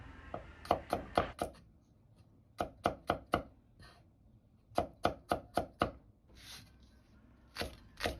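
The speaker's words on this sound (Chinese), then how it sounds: "大蒜1颗切成蒜片" A knife slices a single garlic clove into thin pieces on a cutting board, sharp close chops falling in quick bursts of four or five with short pauses between, no talk.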